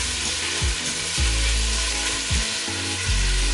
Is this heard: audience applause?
no